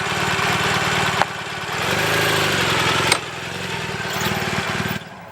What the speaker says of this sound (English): And now I'm going to do, by using the clutch, release the clutch, and I'll just pull away.